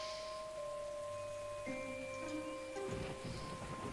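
Steady rain falls in the Gibbous video game, a constant hiss running throughout, with low rumbles and soft tonal game sounds layered over it and no talk.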